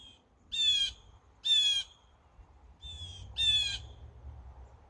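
Two birds trade loud, harsh squawking calls: four hoarse bursts with pauses between them, set against a low rumbling background.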